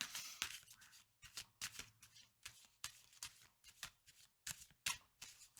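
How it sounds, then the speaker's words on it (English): Tarot cards being shuffled by hand in a quiet room, a series of quick crisp riffling bursts with short pauses between them. "let me just shuffle one more time and we're gonna cut."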